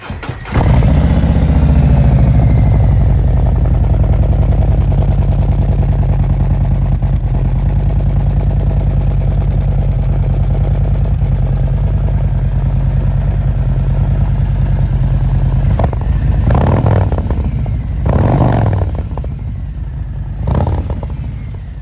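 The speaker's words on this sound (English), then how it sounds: "we're going to do a little startup on this bike." A custom Harley-Davidson CVO motorcycle engine starts up and settles into a loud, close, rumbling idle, then revs sharply a few times near the end.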